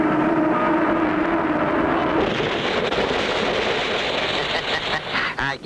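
Cartoon plane with its tail and wings on fire coming down in a rough crash-landing: a loud, steady roaring rush of wind and engine that grows more turbulent and broken near the end, with no voices.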